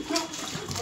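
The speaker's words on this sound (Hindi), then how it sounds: "अरे नीचे पानी जा रहा है" Water spills and trickles down during a friends' birthday surprise indoors, a brief soft splash and dribble under a murmuring voice.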